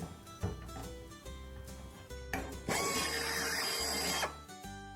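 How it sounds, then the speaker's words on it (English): A power drill whirs in short bursts, drilling out a bad rivet, pausing and starting again, then grinds steadily for over a second before stopping; close and fairly loud. "Every once in a while you get a bad rivet and you have to drill it out"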